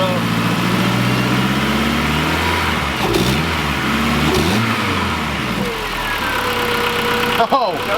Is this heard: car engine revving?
yes